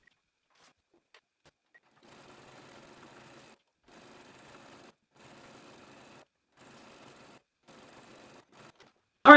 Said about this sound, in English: I'm gonna use my stretch stitch again and go all the way around, leaving a 1-inch opening in the back.